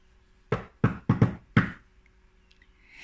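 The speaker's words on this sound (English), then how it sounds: "He knocked on the door of the first house he came to." Five knocks on a house door, sharp and close, in an uneven pattern with a quick double in the middle, followed by near silence.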